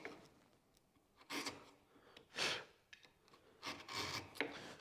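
A wood chisel pares excess wood down to a marked line on a chair part, making quiet scraping strokes in a few separate bursts with pauses between them.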